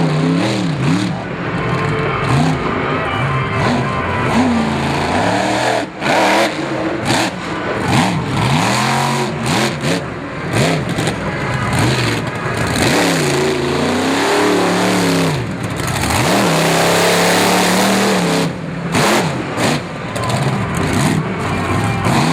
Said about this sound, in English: Cross-threading back and forth, getting some nice air under those front tires.